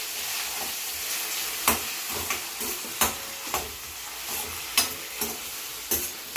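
Tomatoes and onions fry together in a pan, giving a constant close sizzle punctuated by regular sharp clatters of stirring against the vessel.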